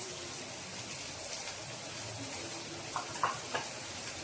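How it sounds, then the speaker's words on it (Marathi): Onion sautés with turmeric and asafoetida in a pan for a bitter gourd curry, giving a steady close sizzle with a few faint stirring clinks near the end. "ही भाजी आपण चांगली कांदा परतून घेऊया. कांदा परतताना वर हळद घालायची."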